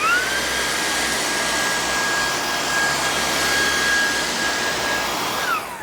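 A new Dream Vacuum cordless vacuum cleaner runs in a condo, its motor giving a loud, steady whine and airy roar that holds constant throughout with no talking.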